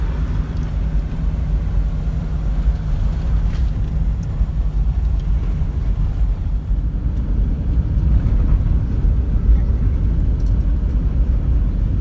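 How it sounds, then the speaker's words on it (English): A vehicle cruising along a smooth farmland road after leaving forestry and mountain tracks, with a steady low road and engine rumble and some wind buffeting throughout, growing slightly louder toward the end. "now we're just cruising along through farmland where the road's a lot smoother"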